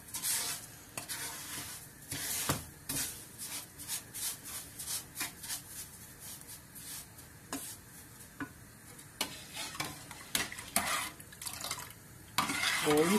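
Food being sautéed in a pot until lightly browned: steady frying sizzle broken by frequent scraping and clinking strokes of a utensil against the pot, close and continuous, with no talk.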